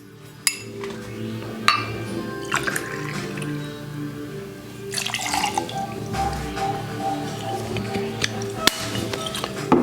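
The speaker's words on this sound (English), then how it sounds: "Now we're going to add our rum, Diplomatico Mantuano." Diplomatico Mantuano rum pours into a mixing glass with a trickling, dripping sound, broken up by sharp glassy clinks and taps, close and moderately loud.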